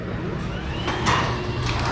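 A garage door opener on a fresh install raises the garage door, giving a steady mechanical hum with a faint rising whine and a few sliding clatters, heard close with no talk.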